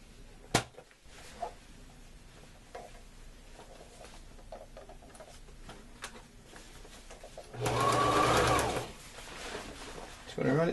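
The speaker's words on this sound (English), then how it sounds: "put it on the sewing machine here" A sewing machine whirs in a short burst of fast stitching through thick, rubbery garment bag material after some quiet handling clicks and taps, fairly close.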